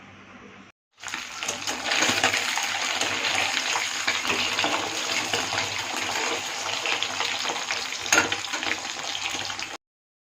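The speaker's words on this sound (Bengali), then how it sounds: "তেল দেবো, তেল দিয়ে ডিমগুলো ভাজবো।" Eggs rubbed with salt and turmeric fry in hot oil in a pan, giving a loud, steady, close sizzle that starts after a brief quiet moment and runs unbroken for several seconds with no voices.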